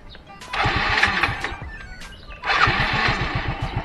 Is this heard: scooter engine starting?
yes